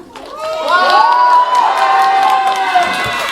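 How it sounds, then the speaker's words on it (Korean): A cinema audience at a film premiere stage greeting erupts in loud, high-pitched cheering and screams that swell after a moment and hold steady, with scattered shouts. "더 크게 한번 환호해 주시면 어때요?"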